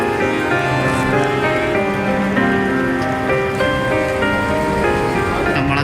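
Rain falls steadily on the plastic sheets that roadside vendors use to cover their goods, a dense drumming patter. A sustained tonal hum and several layered pitched tones run beneath it, and no voices are heard.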